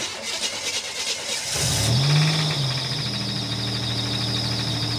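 A Buick Grand National engine with a slight knock cranks and catches at about a second and a half, then revs up before settling into a steady, loud running hum.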